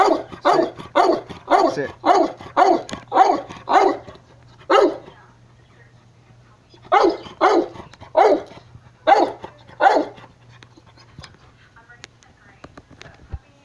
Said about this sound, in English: He's the loudest dog in the world, I think.